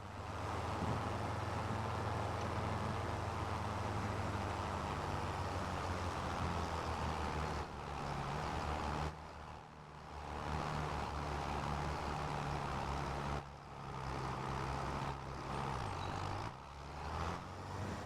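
A rice harvester drives in Farming Simulator 25, its heavy engine holding a steady, loud drone that briefly dips and surges several times.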